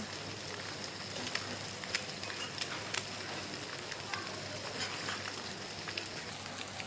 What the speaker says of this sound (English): let the egg cook for a little bit